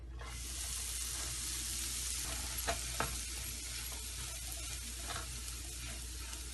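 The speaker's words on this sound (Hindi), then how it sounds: "इसको भूनेंगे, कलर चेंज करेंगे इसका, तो बिल्कुल ब्राउनिश सा हो जाएगा।" Chana dal sizzles and fries in one tablespoon of pure desi ghee as it is roasted, with a steady crackle and a few sharp stirring clicks and scrapes in the pan.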